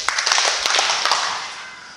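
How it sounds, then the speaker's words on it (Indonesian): A group gathered for a school positive-culture session claps in a quick cluster of sharp hand claps, fairly close and loud, followed by a fading room tail. "Tepuk tangan 3 kali."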